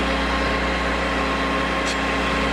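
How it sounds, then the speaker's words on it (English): A machine shop grinding wheel runs in a steady loud whine while sharpening a drill tip, a continuous motor hum with a brief higher rasp near the end. "Then you're going to feed the grinding wheel"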